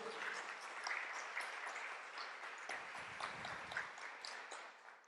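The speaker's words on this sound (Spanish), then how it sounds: "Le dan un aplauso al Señor por eso" A church congregation claps steadily throughout, a dense, continuous applause without a clear break.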